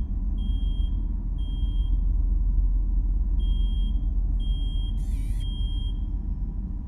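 A repeating electronic alarm beeps in a VHS-style horror video game, with short high-pitched tones in an irregular pattern over a constant low rumbling drone and a brief burst of static near the end.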